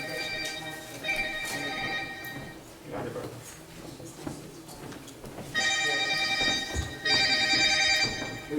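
A phone built into a lunchbox rings during a roundtable discussion, its electronic trill sounding in one short burst and then in two longer bursts, fairly loud over people talking.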